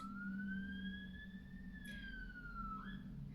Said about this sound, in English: so I'm just going to let the siren go past.